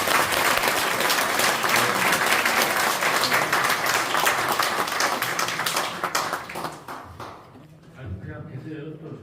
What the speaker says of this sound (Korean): 교회의 다른 신앙을 지키기 위해서 노력하시는 세 분 교수님을 발제와 노력을 위해서 우리가 위로의 박수를 한번